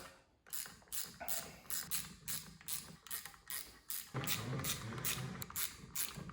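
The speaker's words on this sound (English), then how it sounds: "Now we can take our 10mm and start tightening these down in a crisscross pattern" Repeated ratchet clicks from a ratchet with a 10mm socket tightening clutch cover bolts on a Yamaha Banshee, steady bursts of close mechanical clicking with short pauses between strokes.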